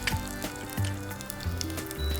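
Green chilies and ginger hitting hot oil, a close, soft sizzle and crackle with light spattering pops through a couple of seconds, and no talking.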